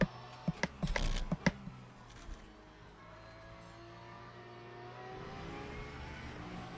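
A Porsche race car engine in the Le Mans Ultimate racing game on a wet Monza circuit hums steadily with a sustained tonal drone, and a few sharp clicks and thumps come early.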